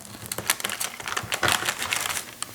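A knife cuts through gooey butter cake with an almond and powdered sugar topping. The cut gives a run of close, crisp crackles and crunches that come in uneven bursts.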